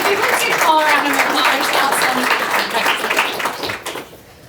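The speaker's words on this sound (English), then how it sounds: "applause" An audience breaks into applause after a business Q&A session, a dense wash of clapping that holds strong before thinning out and fading toward the end.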